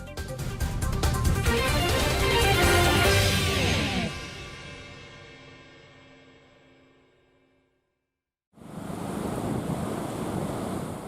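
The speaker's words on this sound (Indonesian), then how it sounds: "Tinggi ombak mencapai lebih dari 2 meter, disertai hujan dan angin kencang" High sea waves over 2 meters with rain and strong wind in the waters south of Papua: loud rushing surf and gusting wind that swell, then fade to near silence before the roar returns abruptly.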